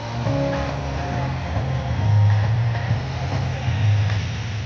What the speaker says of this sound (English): while the C-130J Hercules gets ready for its landing here